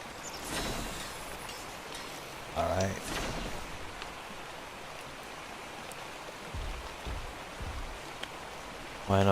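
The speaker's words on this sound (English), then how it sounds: "I know this rain is nourishing me up for water." Rain falls steadily in a survival video game as a soft, constant hiss beneath someone talking, with a few brief clunks and tones breaking through.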